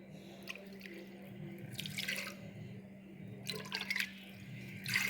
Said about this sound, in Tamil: இப்போ தண்ணி கலந்துக்கிட்டு வருவோம், தண்ணி மொந்துக்கிட்டு வருவோம்